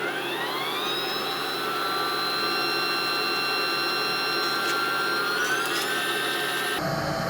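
A wood lathe spins a Chaos 3.0 acrylic pen blank for a cigar pen as it dries, giving a steady, loud motor whine with sustained tones that shift pitch slightly near the end before an abrupt change.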